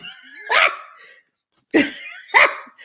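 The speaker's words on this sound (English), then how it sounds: "the dog is in here. She want attention." A dog barks indoors three times, short loud yaps close by: two in quick succession with a pause between, the first preceded by a softer whine.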